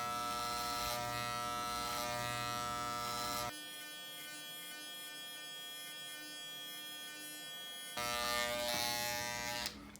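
Electric hair clippers buzz steadily and close up while cutting hair, the tone dropping and thinning partway through, then returning to a fuller buzz.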